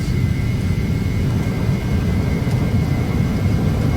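Phenom 300 jet engines in the Prepar3d flight simulator roar at takeoff power as a steady, broad rushing drone with a faint high whine, continuous and unbroken.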